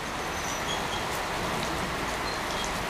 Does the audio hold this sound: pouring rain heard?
yes